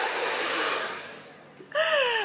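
A professional hair dryer with adjustable temperature blows a strong, steady rush of air that gradually fades, then a brief click and a higher whining tone as it starts up again.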